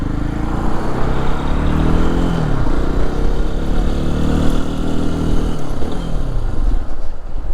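A 2024 Lifan KPX 250 dual-sport motorcycle with a quiet exhaust, heard while riding: a loud, steady single-cylinder engine drone with a few shifts in pitch as the revs drop and climb again.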